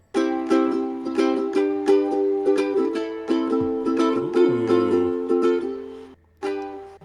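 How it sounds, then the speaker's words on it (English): A ukulele strummed with its built-in chorus effect switched on gives bright, shimmering chords in a steady rhythm of about a dozen strums, close and loud, with a brief pause near the end, no talking. "I'm going to activate chorus mode, and it's going to sound like this."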